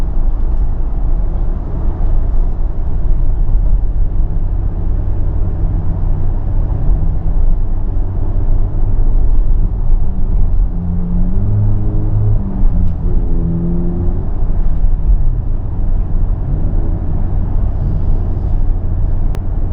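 A Suzuki DR650 motorcycle rides across the Sydney Harbour Bridge, a loud, steady engine and wind roar with rumbling road noise throughout, and traffic noise with a brief passing vehicle tone midway.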